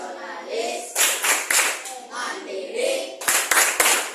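Students perform the tepuk mustika clapping chant in a classroom, with children's voices chanting between sharp bursts of clapping. The claps come in quick groups near the start and end.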